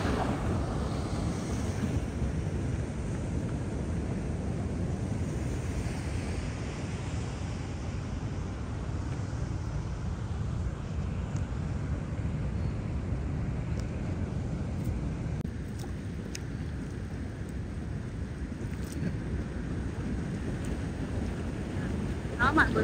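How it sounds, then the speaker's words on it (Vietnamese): Ocean waves wash steadily against the shore at a Hawaiian fishing village, a continuous low rumble of surf partly masked by heavy wind buffeting the microphone. "Ngồi đây yên tĩnh ha, nghe tiếng sóng biển."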